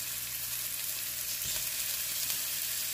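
Ground beef, already marinated, sautés in a hot pan with a steady, close broadband sizzle and frying crackle, with a few soft stirring scrapes partway through and no talking.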